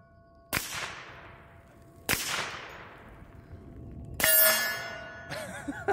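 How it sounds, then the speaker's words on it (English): A Hi-Point JPX 10mm pistol fired into dirt outdoors: three sharp, loud cracks a second or two apart, each trailing off into a ringing decay, with no talking. "Hey, shoot one in the dirt."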